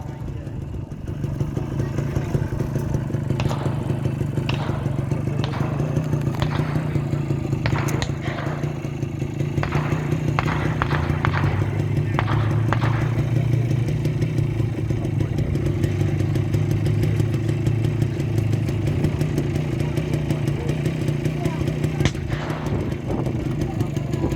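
A WW2 half-track vehicle engine idles and rumbles steadily at a battle re-enactment, with clattering and scraping over the continuous drone.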